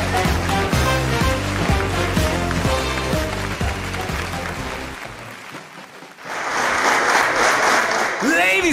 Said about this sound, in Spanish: recibamos con un fuerte aplauso a Luisito Rey.